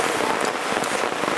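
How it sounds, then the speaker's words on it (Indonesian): Heavy rain pouring steadily outdoors at a village sago-processing site, a dense, continuous hiss of drops on surfaces with no voices. "Ini kondisi hujan deras ya guys"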